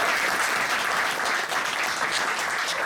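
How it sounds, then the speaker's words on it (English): An audience at a charity coastal cruise event breaks into steady, loud applause for Keria, a dense wash of many hands clapping continuously with no voices standing out. "please join with me a big round of applause for Keria."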